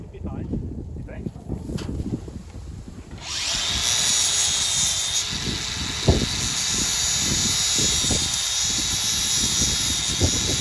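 An electric winch pulls an old G-body car, starting with a sharp whine after a few seconds and running steadily over thumps and clanks, with people talking nearby.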